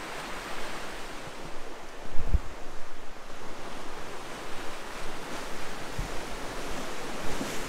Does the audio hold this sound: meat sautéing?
no